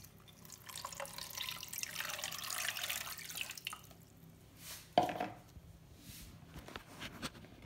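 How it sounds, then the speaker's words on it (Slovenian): Water splashes and trickles steadily over marl and quartz sandstone stones for several seconds, then a sharper pour or splash lands, followed by faint drips and quiet clatter. "jih polil z vodo."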